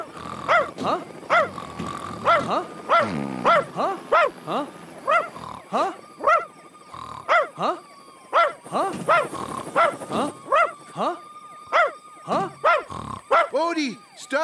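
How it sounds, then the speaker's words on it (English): A cartoon dog barks repeatedly in a rapid string of loud, close yaps and bow-wows, carrying on across the whole stretch with brief gaps between bursts. "stop barking"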